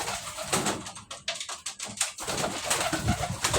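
Pet pigeons in a loft coo steadily in close, overlapping low throaty calls that repeat throughout with no talking.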